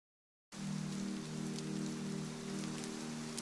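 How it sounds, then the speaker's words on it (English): Steady, dense rain patters against window glass, a continuous even wash of drops that begins abruptly and holds at a constant level, with a faint low hum running underneath and no voices. "listen to the rain against the glass"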